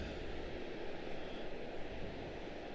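A passenger airplane rolling out on the runway at Charlotte-Douglas International Airport, heard as a steady, broad engine roar at moderate distance with no voices.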